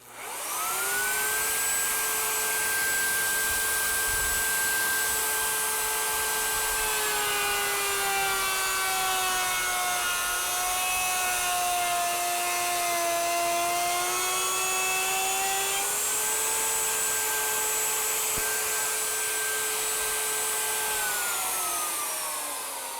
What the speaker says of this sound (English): This is where a plunge base router comes in quick and handy.